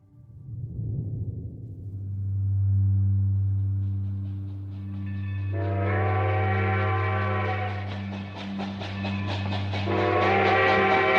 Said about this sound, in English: Frances Perkins stepped off the train in South Hadley, Massachusetts